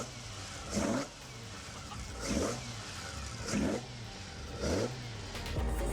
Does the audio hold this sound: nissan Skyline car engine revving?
yes